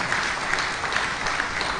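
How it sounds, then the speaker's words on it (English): Audience applause at a tax seminar on a finance act, a brief, even stretch of steady clapping from a seated crowd, moderately loud with no voices. "Please a round of applause."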